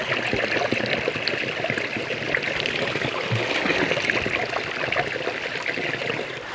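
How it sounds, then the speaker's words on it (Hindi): Water from a mountain spring rushes fast and steadily, a dense, close, continuous splashing flow with no voices over it. "इस कदर तेज़ी नाल पानी बहना आ"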